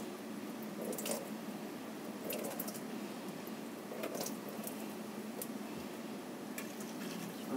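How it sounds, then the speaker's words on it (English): A makeup brush is rinsed in water on a textured cleaning pad, giving a steady wet squishing and sloshing with occasional sharp drips and splashes, close and continuous without talk. "We're going to rinse some of that out."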